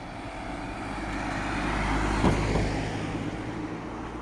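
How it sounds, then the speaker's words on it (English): Cars pass on town streets in Medjugorje on a Saturday night, a steady road rumble that swells as a vehicle draws near around the middle, then fades. Nobody speaks. "Still some cars on the streets."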